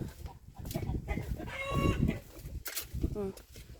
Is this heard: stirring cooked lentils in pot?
no